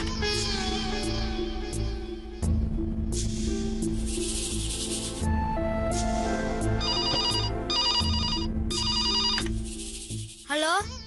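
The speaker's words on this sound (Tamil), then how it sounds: "107க்கு ஒரு ஃபோன் பண்ணி கொடுங்க." A telephone rings in a Tamil TV serial scene with repeated electronic ring bursts sounding through the scene. Music and voices continue around the ringing.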